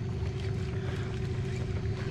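A fishing boat's motor idles with a steady, low droning hum and some wind noise, close but fairly quiet and unbroken, with no speech.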